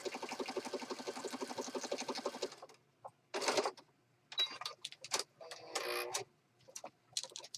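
A sewing machine stitches around the edge of a handmade peacock-themed journal in a fast, even mechanical rattle for a couple of seconds, followed by quieter scattered handling clicks and rustles.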